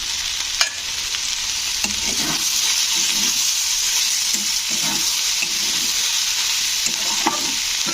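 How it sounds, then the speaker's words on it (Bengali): Chopped papaya, salted, fries in oil in a pan and is stirred, giving a steady close sizzle broken by repeated scraping spatula strokes. "এরকমভাবে কিন্তু পেঁপেটা ভাজতে হবে"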